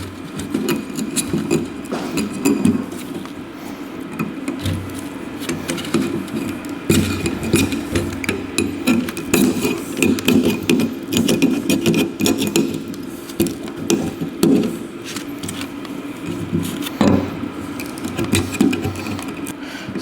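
Old silicone is scraped off a G Series spiral roof by hand, giving a continuous rough rasping and scratching in short irregular strokes, close up with no talking.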